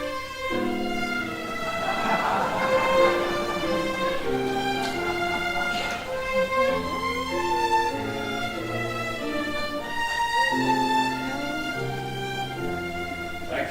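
First violins of the Hallandale Symphonic Pops Orchestra play the melody in the high register, sustained bowed notes flowing through a continuous phrase with lower orchestral support, steady and fairly loud with no talking.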